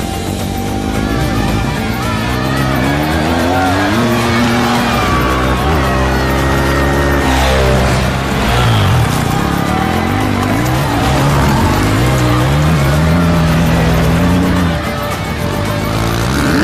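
Rally motorcycles race along a desert route, their engines revving loud and near with rising and falling whines as they accelerate and pass, over a steady rumble.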